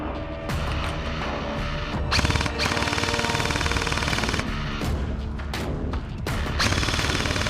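Rapid, continuous airsoft gunfire during a large outdoor skirmish at West Midlands Airsoft, dense overlapping bursts of shots that are loud and sustained, broken by a few brief pauses.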